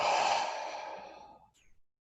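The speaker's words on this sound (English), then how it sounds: "Taking another deep breath in and letting it go." A deep meditative exhale, one long breathy sigh that starts loud and close and fades over about a second and a half, followed by a faint soft breath trailing off into silence.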